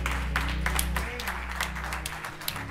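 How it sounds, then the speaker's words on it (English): A church congregation gives a hand clap of praise, soft, steady scattered clapping heard at a distance over a low hum, with no voices. "Let's give the Lord a hand clap of praise."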